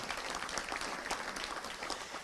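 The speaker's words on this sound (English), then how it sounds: "And yeah, that's worth a round of applause it is." Applause from a luncheon audience at a touchdown club gathering, a dense, fairly soft burst of clapping with no speech over it.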